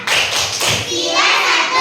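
Children in a classroom clap along to a Pancasila clapping chant, a burst of sharp, close hand claps and thumps running densely through the moment with a little voice mixed in.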